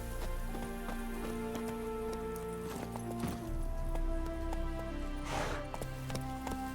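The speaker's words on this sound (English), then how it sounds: "Come here, horsey." A horse trots in The Witcher 3, its hooves clip-clopping in a quick rhythm under a low game soundscape, at fairly quiet overall level.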